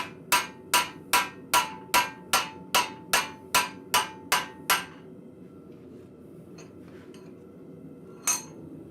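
Hot steel hammered on an anvil at a blacksmith forge, a steady run of about a dozen loud ringing strikes at even pace, then a pause with faint clinks and one final blow, close and without talk.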